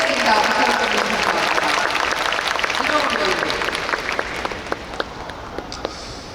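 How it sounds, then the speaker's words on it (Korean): A large outdoor crowd at an open-air stage talk for a film applauds loudly and continuously, and the applause thins into scattered individual claps toward the end. "여러분 박수 부탁드리겠습니다"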